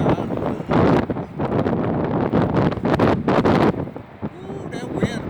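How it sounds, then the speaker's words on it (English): Strong blizzard wind, around 40 miles an hour, roars and buffets the microphone in loud surging gusts, with someone speaking under the rushing noise. "that wind about 40 miles an hour"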